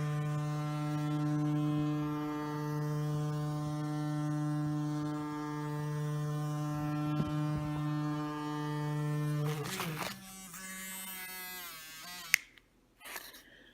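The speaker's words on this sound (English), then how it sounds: "turn on your engine, on your motor by pressing the button" An electric toothbrush motor drives a small doodlebot robot, giving a steady, droning buzz that holds for about ten seconds before shifting and breaking up into rattling and clatter.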